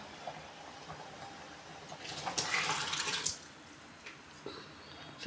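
Mashed toor dal slides into a pot of South Indian sambar with a soft, wet splashing pour lasting about a second, surrounded by quiet kitchen background.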